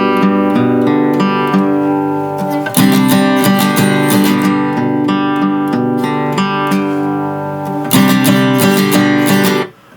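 An acoustic guitar strums and picks a chord phrase from an 80s rock ballad, the phrase played twice, bright and loud up close, with no talking.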